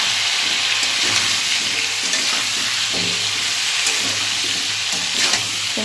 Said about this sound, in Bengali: ভালো করে নেড়ে নুন হলুদটা মিশিয়ে দেবো।